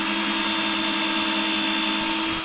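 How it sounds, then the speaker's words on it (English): A high, steady whine of a small power drill with a tiny bit running continuously at close range through a concealed-hinge jig, with no pauses or talking. "So that's for the tiny little drill bit."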